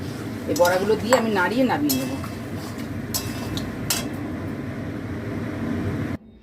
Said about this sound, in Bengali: দিয়ে এবার এই বড়াগুলো দিয়ে আমি নাড়িয়ে নামিয়ে নেবো